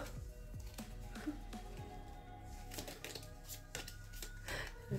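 A pile of cards is dropped and then gathered and handled, giving a quick run of light papery slaps, flicks and taps, close and fairly quiet, with occasional faint speech.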